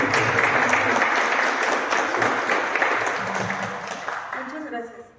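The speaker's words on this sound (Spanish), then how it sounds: "Por favor, un fuerte aplauso." Warm audience applause welcoming a speaker to a lecture stage, a full, steady round of clapping with some crowd voices that gradually tapers and drops away at the close.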